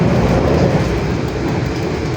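A panoramic passenger train runs at night between Surabaya and Yogyakarta, heard from inside the carriage as a steady, loud, broadband rumble with faint rhythmic wheel clatter throughout.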